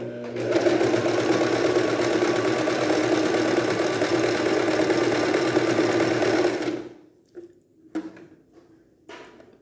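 A sewing machine runs a continuous zigzag stitch on a children's bomber jacket, loud and steady for several seconds, then stops, leaving a few soft clicks and handling noises.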